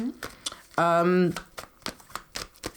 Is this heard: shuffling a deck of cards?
yes